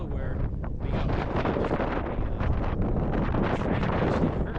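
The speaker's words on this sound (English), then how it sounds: "Wow, the wind is picking up." Strong wind blasting across tall sand dunes, a continuous loud roar and buffeting against the microphone with steady gusts and no pauses.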